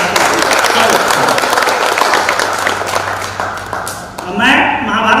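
An audience claps loudly and continuously at a live recitation of the Mahabharata, with a voice sounding over the clapping near the end.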